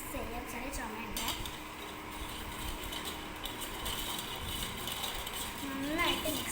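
A spoon stirs nannari sharbat to dissolve the sugar, giving light clinks and scrapes against the glass or jug that run steadily throughout, with a voice speaking briefly over the stirring near the end.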